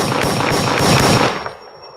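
A single loud gunshot sound effect cracks sharply up front, followed by a short rumbling tail that fades out within about a second and a half.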